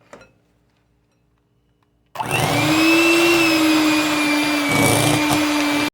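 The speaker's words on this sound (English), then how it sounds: "Now you have to beat it for 2 minutes. Let me get the beater over here." After a couple of seconds of near silence, an electric hand mixer whirs on abruptly, beating key lime pie filling with a loud, steady high-pitched drone that wavers slightly before cutting off.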